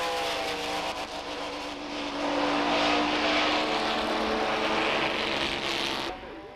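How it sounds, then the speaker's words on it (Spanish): Vintage ERA racing car with a six-cylinder engine alongside a BRM V16 racer, their engines roaring loudly and continuously, swelling in the middle before dropping away abruptly at the end. "con el característico sonido de su motor de 6 cilindros"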